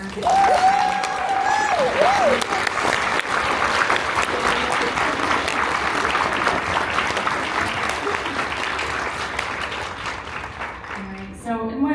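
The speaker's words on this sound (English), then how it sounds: "a round of applause for our" A room full of people bursts into sustained applause at a talk on recycling, loud and dense, with some whooping early on, tapering off near the end as it fades.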